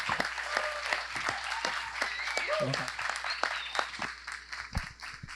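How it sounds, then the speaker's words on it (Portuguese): An audience at a debate panel breaks into steady applause, dense clapping with some voices mixed in, moderately loud and fading slightly toward the end. "Gente, palmas para a Inaê Lopes."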